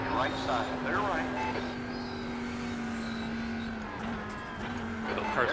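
Race cars in the iRacing sim racing game drone with a steady engine hum that rises and falls slightly as the cars run together. Faint voices can be heard in the background.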